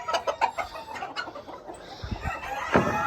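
Ornamental chickens in a pen clucking, with several short clucks and calls scattered through, moderately close, over faint background noise.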